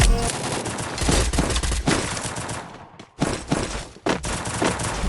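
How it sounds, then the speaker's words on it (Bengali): Rapid bursts of gunfire from a battle royale video game match ring out loudly and almost without pause, with one short gap near the middle before the shooting resumes. "গুলা গুলি করতেছে এখানে"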